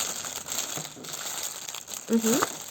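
A child opens a birthday present indoors, and the wrapping gives off soft, repeated crinkles and rustles at close range, with a voice speaking over them.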